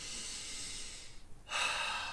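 A single deep breath is drawn in audibly and slowly, close and soft, with a short pause and then a stronger rush of air. No voice is heard.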